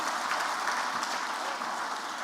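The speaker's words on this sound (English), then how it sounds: "I think this man deserves a big and a better round of applause" Audience applause fills a room at a state house press corps presidential dinner, a dense, even clapping that holds steady at moderate loudness for a couple of seconds with no voices on top.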